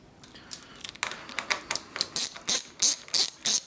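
Rapid ratchet clicks from a socket wrench loosening a nut on a 2022 Yamaha YZ450F brake lever, close and crisp, coming in short bursts that grow louder toward the end.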